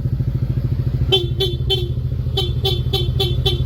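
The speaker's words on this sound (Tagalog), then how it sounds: "ito po yung ating kinabit na busina, blow punk, shell horn" A Blow Punk shell horn fitted to a Yamaha NMAX V1 scooter gives eight short, loud toots in quick bursts, three then five, over the scooter's idling engine, heard up close.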